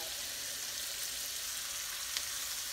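Chicken searing in a hot pan makes a steady, bright sizzle throughout, close and even, with a faint tick near the end and no voices.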